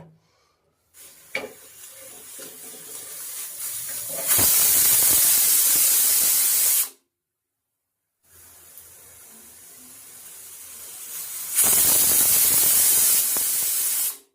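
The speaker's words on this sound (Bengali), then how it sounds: "প্রেসার কুকারে চারটে সিটি দেওয়া হয়ে গেছে" A pressure cooker cooking chicken liver lets off steam in two long hissing bursts, each swelling into a loud, bright, sustained whistle before cutting off, with a short silence between.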